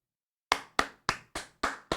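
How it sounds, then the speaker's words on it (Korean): Six sharp hand claps at a steady, slightly uneven rhythm follow a half second of silence, each crisp and close with a short ringing tail, in a Korean Sherlock Holmes audiobook scene. "홈즈는 찬성의 의미로 짝짝 박수를 치고 외쳤다."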